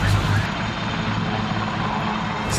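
Military transport aircraft pass overhead during a paratroop drop exercise in Kosovo, a loud, steady engine rumble and drone filling the whole stretch.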